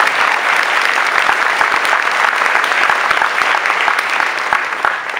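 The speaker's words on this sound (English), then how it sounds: "A round of applause for family members." Sustained applause from a ceremony audience honoring family members at a university induction event, a dense steady wash of many hands clapping at even loudness throughout with no speech.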